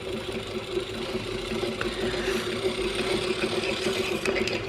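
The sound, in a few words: Singer 128 antique sewing machine winding the bobbin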